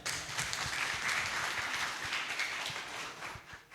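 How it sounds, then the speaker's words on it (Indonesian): Steady applause from an audience at an indoor forum, a dense wash of clapping that holds for several seconds and then begins to thin out at the end. "Boleh tepuk tangannya?"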